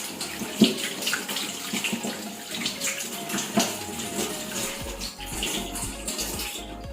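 Tap water runs steadily for a rinse, a continuous splashing gush with slight shifts as the flow hits the surface below. It is fairly close and there is no talking.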